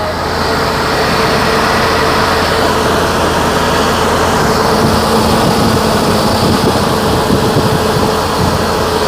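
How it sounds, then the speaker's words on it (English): A 1956 Chevy engine runs steadily and smoothly with a low, even rumble, close by and unbroken, with no voices over it. "It's idling. Well, it's not idling, but it's smooth."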